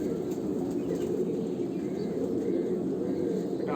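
Fantail pigeons at a home loft cooing in a low, continuous murmur, a dense, steady rumble of overlapping calls close by with faint higher chirps, and no speech over it.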